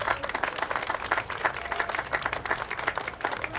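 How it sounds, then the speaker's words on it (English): Audience applause at an outdoor GOYA Foods Latin festival event at Canalside, a moderately loud burst of many hands clapping in a fast, uneven rhythm. "Let's give the members of the Hispanic Heritage Council another great big round of applause."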